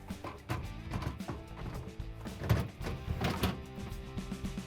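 Left crisper drawer of a Samsung refrigerator pushed back into place, with a series of soft plastic thunks, knocks and short sliding rattles over several seconds, close by and moderately quiet.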